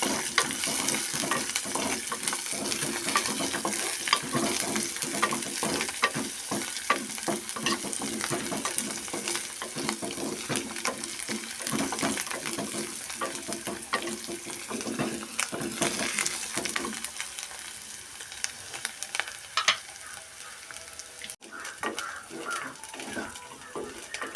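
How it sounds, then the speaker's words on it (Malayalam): Steady sizzling of green chillies, curry leaves and dried red chillies frying in a pan, with occasional stirring and scraping, continuous and close throughout. "പച്ചമുളക്, വേപ്പില, ഉണക്കമുളക് ഇതൊക്കെ നമ്മൾ ഇതിൽ ചേർത്ത് വറുക്കണം."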